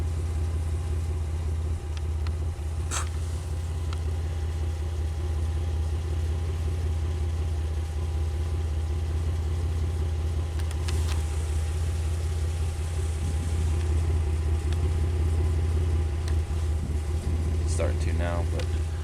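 A Pontiac Aztek engine runs steadily with a low exhaust drone and constant hum, heard from nearby with faint mechanical clicks and no voices.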